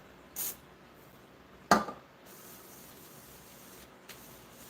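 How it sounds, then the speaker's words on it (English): A spray bottle mists a hand while a California roll is being made, giving two or three short, sharp hissing spritzes separated by quiet moments, close and fairly soft. "I spray my hand."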